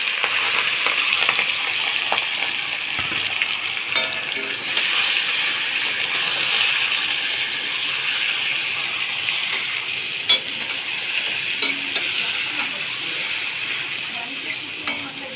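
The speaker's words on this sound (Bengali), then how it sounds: "এইবার ম্যারিনেট করা মাংসটাকে আমি দিয়ে দেবো।" Marinated chicken frying in a pan for a reyaji chicken curry, a steady broad sizzle with occasional stirring clatter, continuous and moderately loud throughout with no talking.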